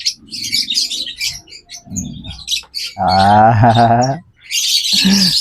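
A tame pet bird during hand training gives a run of close, loud chirps and tweets, with one longer harmonic squawk-like call in the middle and a burst of chirping at the end.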